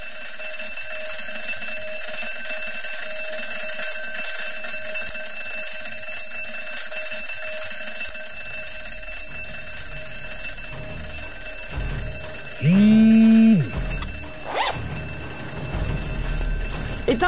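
An alarm clock rings in short bursts of bright, piercing tones near the end, loud and close, over a steady hum of background noise with a quieter stretch before.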